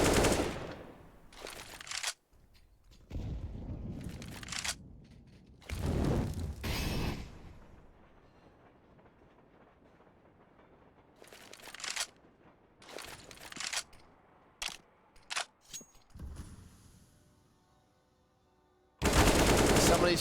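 Automatic gunfire sprays during a Counter-Strike match on the Train map, several loud bursts of rapid shots separated by quieter gaps, with a caster talking in between.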